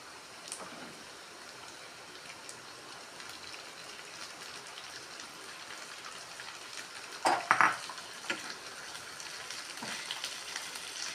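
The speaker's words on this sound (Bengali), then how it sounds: "মাছগুলি হালকা অল্প একটু ভাজবো" Rohu fish pieces fry over browned onions in a pan, giving a soft, steady sizzle like light rain, with one brief clatter of a utensil against the pan partway through.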